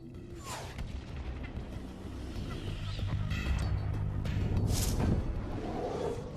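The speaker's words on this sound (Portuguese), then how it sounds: "A explosão do impacto foi equivalente à força de 1000 bombas de Hiroshima." An asteroid impact explosion in northern Arizona plays as a rolling, rumbling blast with deep booming low-end that swells toward the end, alongside scattered crackles and sharp hits.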